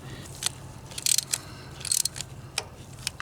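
Ratchet tightening the bolts on a camshaft position actuator solenoid of a 2009 Chevy Cobalt 2.2L, heard as a few quick close clicking ratchet bursts against a quiet background.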